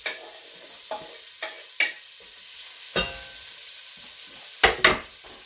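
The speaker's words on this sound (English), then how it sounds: "now I'm just going to go ahead and add my onion" Chopped onion stirred into a hot pot for potato soup: a soft, steady sizzle underneath, broken by several scraping knocks of the spoon against the pot, with two close together near the end.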